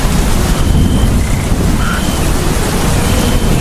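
A Baishakh storm sweeps over a village, with a dense, steady roar of heavy rain and gusting wind buffeting close by. The low rumble continues without a break and no voices are heard.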